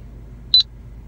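A single short electronic beep from a radar detector in a car sounds once, clear and close, against a quiet background hum.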